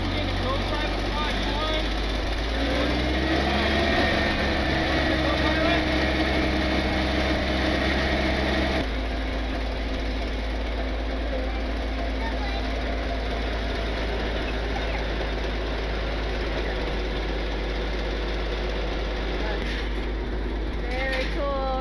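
An old restored aircraft engine runs in a loud, steady, rumbling drone that shifts in tone partway through, with voices faintly present under the noise.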